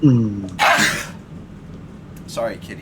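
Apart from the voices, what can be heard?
sneeze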